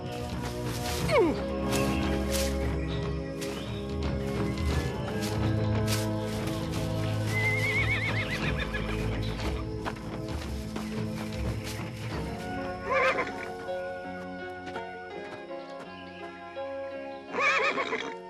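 Horses whinny amid a dense musical score, the neighs rising above orchestral sound several times.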